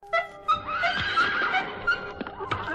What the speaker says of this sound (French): Et cela fit un bel attelage de 6 chevaux, d'un beau gris de souris pommelé.